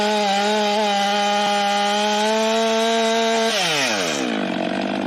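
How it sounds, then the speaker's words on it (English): A chainsaw bores into a tree trunk with a loud, steady high-pitched whine that suddenly drops lower near the end as the engine slows. "So now we're gonna bore it out much bigger so that gap is larger."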